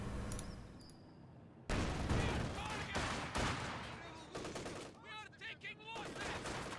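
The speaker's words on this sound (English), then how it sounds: "So here the MG is doing some significant damage." Bursts of tank-mounted machine gun fire in the strategy game Company of Heroes 2 rattle out in rapid repeated volleys, loud and dense, mixed with other battle noise while someone talks over it.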